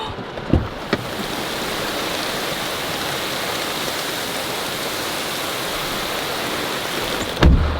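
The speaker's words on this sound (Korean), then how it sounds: "이렇게 갑자기 쏟아지는 비는 소나기 아닌가?" Sudden heavy summer rain shower pouring down steadily at a campsite, a dense even hiss with a couple of brief knocks near the start and a louder bump at the end.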